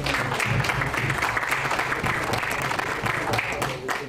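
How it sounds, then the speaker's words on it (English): An audience claps for a sales training presenter arriving on stage, dense applause throughout with a few faint voices murmuring underneath before it starts to taper off. "Please give her a round of applause as she comes"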